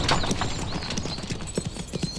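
Horse hooves clip-clop in a steady, uneven rhythm at moderate distance in a Chinese historical drama, with a continuous scuffing background and no talk over the trotting.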